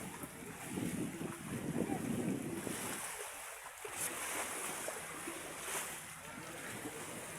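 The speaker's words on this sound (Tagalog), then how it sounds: "Malaki ang dagat ngayon, guys." Rough sea waves break near the shore at Barangay Bonifacio, Mariveles, Bataan, with a continuous surf roar and gusty wind buffeting the microphone, plus brief bursts of voices.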